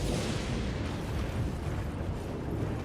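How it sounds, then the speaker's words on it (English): Explosion from a hammer weapon art in the video game Elden Ring, a broad rumbling blast that fills the short clip with dense low-end noise and no talking. "Most of its damage comes from the explosion."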